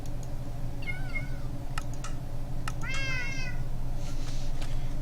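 Cats meowing in the video game Minecraft, a few separate, fairly clear meows over a steady low background hum, with a few faint clicks between them.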